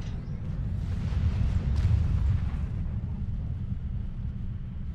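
Photon torpedo explosions from a Star Trek starship battle, a deep rumbling blast swelling for a couple of seconds then rolling off into a low sustained roar, loud and fairly close with little else over it.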